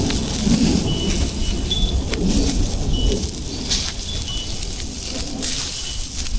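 A spring thunderstorm pours steady heavy rain onto the ground and nearby surfaces, with low thunder rumbling beneath it, loud and continuous throughout at an outdoor grill.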